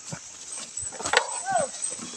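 Large dogs give a few short barks and whines close by on a farm, mixed with people talking and some background noise.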